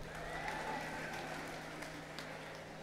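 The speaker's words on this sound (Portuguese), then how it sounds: "uma salva de palmas, por favor." Audience applause rises at a tech and music event after a group finishes, a faint, steady wash of clapping that thins out over a few seconds with no talk.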